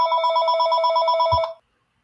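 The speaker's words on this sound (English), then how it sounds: "let me pause this real quick because I've got to take this phone call" A telephone rings with a fast electronic warble, loud and close, and cuts off after a couple of seconds with a faint click.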